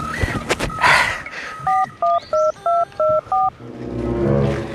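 A run of six clear telephone keypad tones dials a number in quick, evenly spaced beeps, with rustling and brief noises before and a low background hum after, in a household comedy scene.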